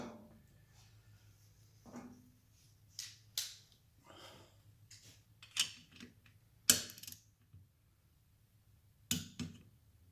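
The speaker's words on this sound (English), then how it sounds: "He's running back through and just checking for torque, and he's getting a little bit of a turn out of each one." Sparse, faint metallic clicks and ratchet ticks come from a torque wrench retorquing the rocker box bolts on a 1974 Triumph Trident, in short irregular bursts over a quiet background.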